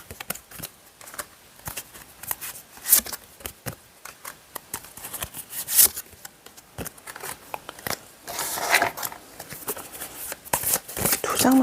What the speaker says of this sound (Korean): 카드 한번 쭉 뽑아볼게요.